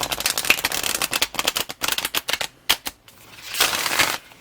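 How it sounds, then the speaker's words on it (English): Stiff, thick tarot cards snap and clatter in quick bursts as a deck is shuffled close by, with a rushing riffle near the end. "as you can hear, there's quite a bit of snap to these cards."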